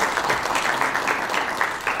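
Loud, close crowd applause for panelists at a structural reforms panel in Konya, a dense continuous clapping texture with rhythmic swells throughout, no speech on top.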